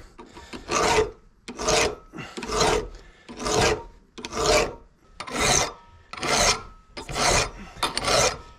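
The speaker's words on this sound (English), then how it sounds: "Let's see if we can sharpen that, because we're not getting anywhere" Hand file sharpening a dull spade drill bit, about eight even, rhythmic rasping strokes, close and clear with short pauses between each pass.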